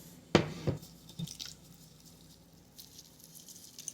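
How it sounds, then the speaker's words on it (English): Ground beef is broken apart in a pan with peppers already cooking, soft squishy pats and a couple of sharp scraping hits early, then quiet faint sizzling and light clicks. "we're simply going to be breaking apart our delicious Clayton's ground beef"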